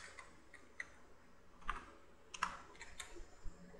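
Quiet typing on a computer keyboard while coding, a short irregular run of soft key clicks with a few louder taps, close and alone.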